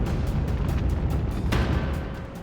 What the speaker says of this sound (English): A huge explosion rocked the port.